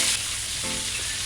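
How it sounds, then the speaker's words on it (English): Chicken balls fry in hot oil over a high flame, giving a steady, close, dense sizzle with faint crackles throughout and no talking. "If you fry the chicken balls on high flame, it won't make the chicken balls oily."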